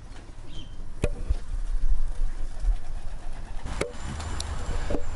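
Racing pigeons arriving from a competition flight in Kosakowo, cooing and shuffling outdoors amid steady background rumble, with a few sharp clicks or wing claps cutting through.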